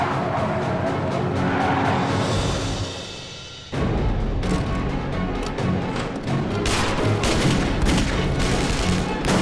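A car races in during an action-movie scene, loud and close, its engine roar and tyre noise mixed with sharp bursts like gunfire and skidding, dropping briefly then surging back with crashing impacts.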